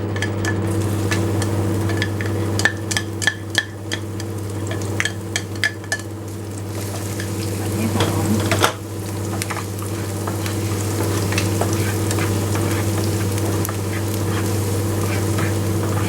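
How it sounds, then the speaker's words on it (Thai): Garlic and chili frying in a pan for a Thai stir-fried squid with curry powder, a steady sizzle under a low constant hum, with a run of sharp rhythmic clicks early on and one louder knock midway. "แล้วก็ตามด้วยกระเทียมพริก"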